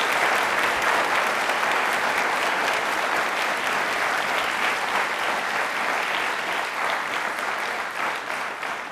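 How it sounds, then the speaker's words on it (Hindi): A studio audience at a general knowledge quiz show applauds loudly and steadily for the full stretch, a dense continuous clapping with no talk. "एक बार वापस से सभी के लिए तालियां जोरदार"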